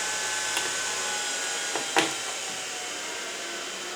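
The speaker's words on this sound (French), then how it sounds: "c'est ce ventilo-là qui fait du bruit" A computer cooling fan runs with a steady, close broadband whir, alone, broken by a few faint clicks and a brief knock near the middle.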